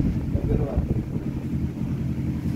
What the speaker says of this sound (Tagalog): Ata, kalakas ng hangin nga talaga.